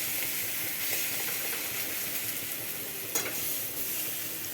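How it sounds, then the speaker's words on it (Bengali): Onion paste with spices fries and is stirred in a pan, giving a continuous quiet sizzle and hiss with one brief clatter of the spoon partway through. "এখন নাড়াচাড়া করছি কারণ পেঁয়াজ বাটার ওপরে মশলা দিয়ে দিলে একটু গন্ধ গন্ধ ওঠে"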